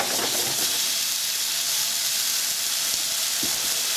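Steak sears in a warm pan with a loud, continuous close-up sizzle and hiss, steady throughout with a few faint pops and no talking.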